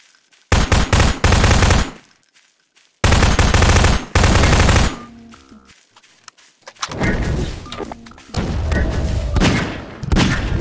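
Rapid bursts of automatic gunfire in Garry's Mod, loud and close, with sharp volleys separated by short gaps and a denser, rattling barrage toward the end.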